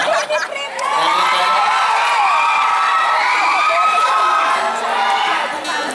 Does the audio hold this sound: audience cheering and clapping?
yes